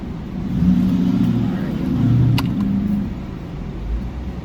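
A car pulls away through drive-through cones set up at a Chick-fil-A, its engine humming close and steady with mild revving swells under muffled road rumble.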